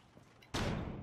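A flashbang grenade detonates in the video game Rainbow Six Siege, one sudden loud blast that cuts in after a quiet moment and rings on with a dense, sustained roar.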